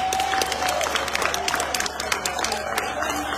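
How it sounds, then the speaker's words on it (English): Steady applause from a crowd at a Bobi Wine gathering in Boston, many hands clapping continuously at close range with a bit of cheering mixed in. "Clap for that man."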